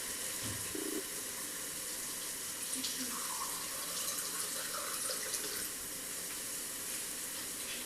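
Water poured into a Cookeo multicooker pot holding browned filet mignon and white wine, a steady close splashing trickle that runs for several seconds.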